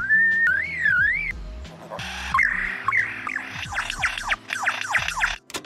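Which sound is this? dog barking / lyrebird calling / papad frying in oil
lyrebird calling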